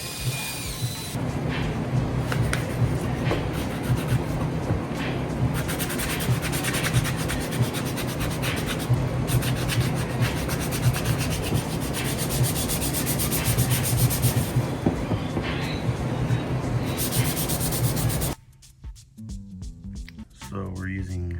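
Sanding drum with 180 grit working over rounded custom mirror parts, a loud, steady, close rasping whir that runs for most of the clip, then stops abruptly as talk follows.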